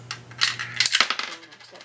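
Three coins drop into the coin mechanism of an escape room prop, a few sharp metallic clinks and rattles, close and quiet, with no talk.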